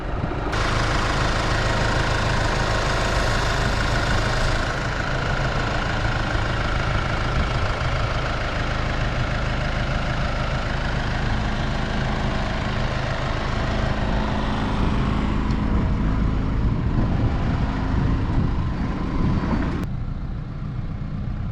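A farm tractor fitted with a bale fork runs its engine steadily for the whole stretch, a loud, close, continuous rumble with no talk over it.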